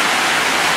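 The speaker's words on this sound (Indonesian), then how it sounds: "supaya air hujan pas dari seng yang di atas sana akhirnya jatuh ke pagar yang ini, besinya nih." Rainwater pours off a zinc roof onto an iron fence, producing a steady, loud, hissing wash of splashing water with no pauses or voices.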